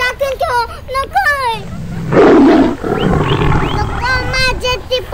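A cartoon tiger lets out a loud, rough roar that swells for about a second in a kids' animated show, with a child-like character voice speaking before and after it.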